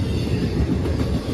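Freight train with five engines passing on the Pittsburgh line, a loud close rumble of wheels and wagons with rhythmic rail clatter, continuous and heavy.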